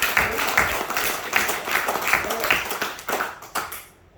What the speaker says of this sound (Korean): 이 가정을 해서 박수 한번 쳐주세요.